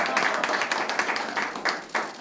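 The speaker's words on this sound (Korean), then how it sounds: "큰 박수 부탁드리겠습니다." Applause from an audience at a meeting of small and mid-sized business leaders, a short burst of scattered hand clapping that is moderately loud and close, with a voice under it.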